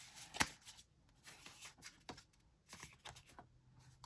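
Tarot cards being shuffled during a reading, soft quick riffling and flicking sounds in short bursts with a sharp snap near the start, close and quiet with no talk.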